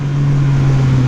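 A Yamaha MT-09 motorcycle engine held at around 5,000 RPM, a loud, close, steady buzzing drone with a strong low hum throughout the short moment.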